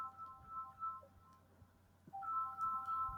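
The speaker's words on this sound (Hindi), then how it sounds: "कौन बार बार फोन कर रहे हैं" A phone ringtone plays a repeating melodic phrase twice, pausing briefly before ringing again, fairly clear over low background hum in a quiet room.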